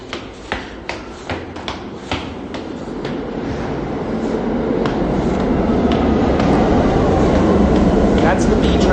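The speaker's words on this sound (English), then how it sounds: "That's the B train." New York City subway B train near Church Avenue, starting with a few sharp clacks then building into a loud, steady rumbling roar as the cars pass close by, with some talk faintly underneath.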